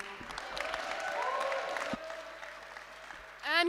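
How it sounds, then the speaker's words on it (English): Audience applause at a BAFTA watch party night, a dense crowd clapping steadily at moderate distance, ending in a brief burst of cheering or a whoop near the close. "can we please give one more round of applause for Emmanuel"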